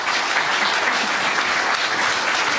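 A studio audience gives a guest a warm round of applause, dense steady clapping with no voices over it.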